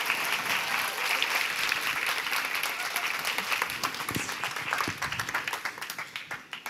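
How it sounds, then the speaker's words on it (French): Audience applause for actors after a scene at a nonviolent communication workshop, a steady dense round of clapping that thins into sparser, uneven claps toward the end. "je vous invite à me faire un tonnerre d'applaudissements pour les comédiens de cette deuxième scène"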